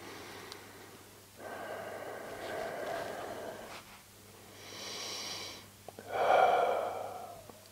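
Deep, slow breaths during a lower-back and hip stretching session, several long inhales and exhales with a louder, rougher exhale near the end, close and clear with no talking.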